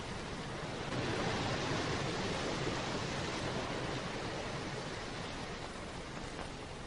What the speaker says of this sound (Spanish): Parte de este agua discurre por debajo de este edificio, llamado planta generadora hidroeléctrica.